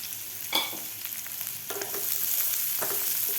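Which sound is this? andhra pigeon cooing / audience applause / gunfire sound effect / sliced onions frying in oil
sliced onions frying in oil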